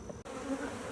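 Dense, steady buzzing of many honey bees knocked into a bucket at close range, continuous except for a brief dropout near the start.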